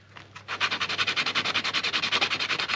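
Sanding excess off a wooden dowel whistle, a close rhythmic rasping of rapid, evenly spaced back-and-forth strokes after a couple of soft opening scrapes, no talking.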